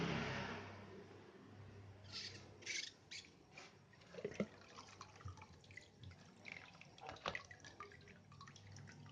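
Water drains and drips from an opened membrane filter housing of a water purifier, an irregular patter of close drips and splashes over a quiet background.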